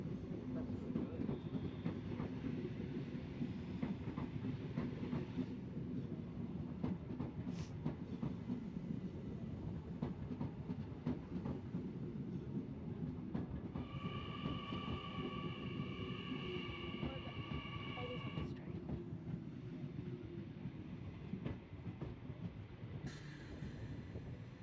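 Riding aboard train V34 on a railway tour: a steady rumble of wheels and carriage noise runs throughout, with clicks over rail joints and a brief high squeal of wheels partway through.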